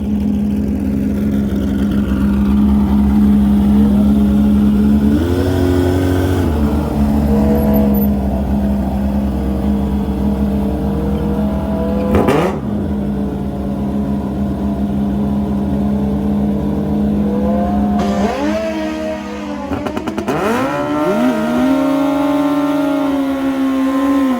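Honda CB and a stretched Hayabusa at a motorcycle drag strip, engines droning loudly and steadily with several sharp revving rises and gear-change dips over about twenty seconds, and no voices heard.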